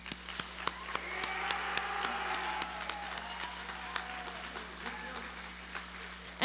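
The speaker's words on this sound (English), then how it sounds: "Can we get another round of applause for Mr." Applause for a speaker at a high school welcome assembly, a steady wash of many hands clapping in a large hall, with sharp individual claps standing out above the crowd noise.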